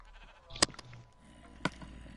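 Two short, sharp sheep bleats from the Minecraft video game, spaced about a second apart over quiet game ambience.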